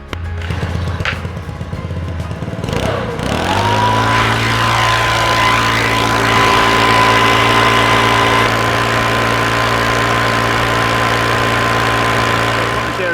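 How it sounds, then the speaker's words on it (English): A petrol leaf blower starts up and runs steadily outdoors, drying wet paving after rust stain removal; a loud, continuous engine drone with a steady whine holds at constant level after a brief startup. "I'm just going to get the leaf blower started up again and see if I can just dry this area out a little bit"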